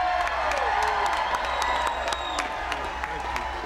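An arena crowd applauds and cheers a guest introduction at a college basketball event, with scattered whoops and claps rising over a steady wash of clapping, close and moderately loud, while a voice talks over it.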